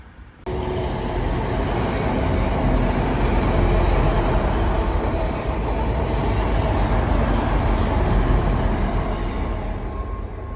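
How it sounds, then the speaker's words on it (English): Train at Rochdale station, Manchester Victoria service, giving a loud steady rumble of wheels and engine that starts abruptly and holds for about ten seconds, with a faint tonal hum on top and no voices. "That train is going to Manchester, Victoria."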